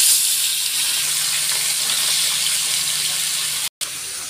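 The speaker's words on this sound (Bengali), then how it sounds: "পেঁয়াজ কাঁচা লঙ্কা তেলের উপর ভালো করে ভেজে নিচ্ছি" Chopped onion and green chili frying in hot oil in a Bengali kitchen, giving a steady, dense sizzle that holds close and loud throughout, broken only by one abrupt dropout near the end.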